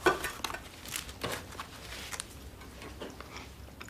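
Someone eats fast, wet chewing and biting sounds with faint clinks of dishes or cutlery, close and fairly quiet, in irregular bursts with no talking.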